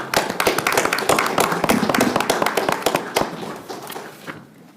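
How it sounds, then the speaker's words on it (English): Attendees at a special call meeting clap after a unanimous vote, a close, lively burst of many hands with sharp individual claps that thins out and fades away near the end. "Applaud you again."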